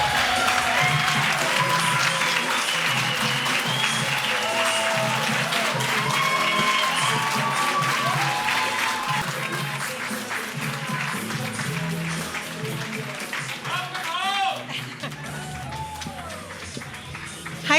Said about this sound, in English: So I know you just clapped, but let's do it again.